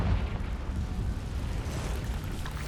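Confringo blasting spell going off in the Hogwarts Legacy video game, a continuous rumbling, crackling explosion with a dense low boom that stays loud and steady throughout, with no voices over it.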